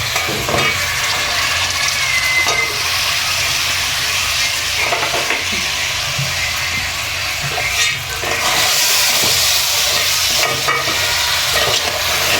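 A large mud crab, about 1.5 kg, goes into a pan of frying garam masala and mixed spices, giving a steady close sizzle with stirring and scraping throughout, loud and continuous, no voices.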